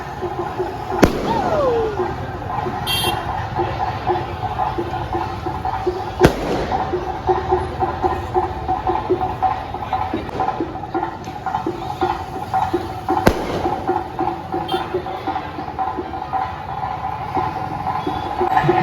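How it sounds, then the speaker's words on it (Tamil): Firecrackers bursting at a Mariamman temple flower-offering festival, sharp loud cracks at a few spaced moments over a steady crowded outdoor din. "வெடி வைக்கிறான்"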